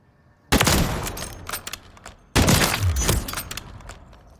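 A sniper rifle fires in Call of Duty Modern Warfare III: two heavy, booming shots about two seconds apart, each trailing off in a long rumbling echo.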